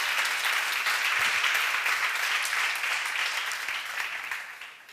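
A congregation at a church seminar breaks into applause, a steady, even wash of clapping holding for several seconds before tapering off at the end.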